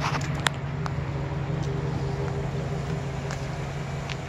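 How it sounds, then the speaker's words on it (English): A 2008 Chevy Silverado crew cab pickup idles with a steady low exhaust rumble, a smooth even drone with faint scattered clicks above it and no talking. "You can hear the exhaust, very clean."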